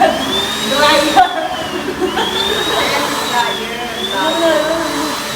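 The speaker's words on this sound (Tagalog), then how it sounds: "Dryer ba?" An electric dryer runs close by with a steady, airy whine whose pitch drifts and wavers. People talk over it.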